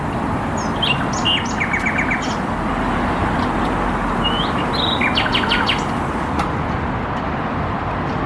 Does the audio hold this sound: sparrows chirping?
yes